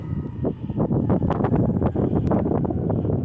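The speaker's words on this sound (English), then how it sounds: "It just got a big gust of wind for some reason." A gust of wind sweeps through a park near a playground, buffeting the microphone in uneven rumbling bursts that build and stay strong, with no talking.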